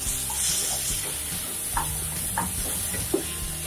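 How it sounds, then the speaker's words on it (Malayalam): Onion and tomato sauté in a pan for a yam curry, with a steady loud sizzle and occasional soft stirring clicks underneath, close up and without speech. "അതിലോട്ട് നമുക്ക് ടൊമാറ്റോ ചേർത്ത് കൊടുക്കാം"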